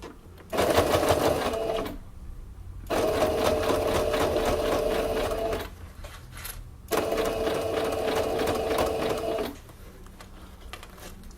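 Sewing machine stitching along the edge of bias binding on a fabric oral-hygiene pouch, three runs of rapid, steady mechanical clatter close by, separated by short quiet pauses.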